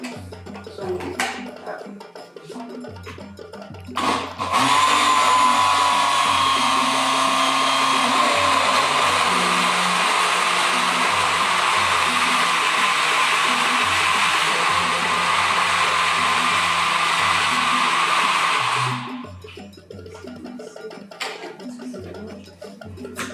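An electric kitchen blender grinds peanuts, onions and dried shrimp at an outdoor African cooking workshop, a loud steady whirring roar running about fourteen seconds, with people talking before and after it.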